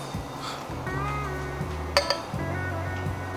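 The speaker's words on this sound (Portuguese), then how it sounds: "vou colocar a barra magnética junto." A magnetic stir bar drops into a glass flask of water with a single sharp clink near the middle, preceded and followed by faint rattling and low hum in a quiet room.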